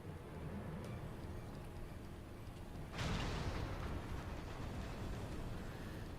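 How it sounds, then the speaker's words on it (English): Cannon fire and explosions in the video game FFXIV Stormblood form a dense, rumbling roar, with a sharp blast about halfway through that swells the continuous battle noise. "All cannons, return fire."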